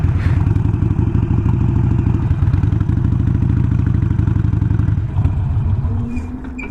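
Motorcycle engines rumble steadily through a late-night street scene near a post office, a loud continuous low drone that holds for several seconds before easing off, with no talking.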